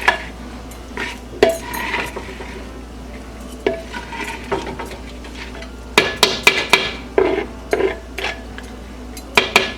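Egg fried rice stirred in a wok with a metal utensil, a series of sharp clanks and scrapes against the pan at an irregular rhythm, loud and close over a faint background sizzle.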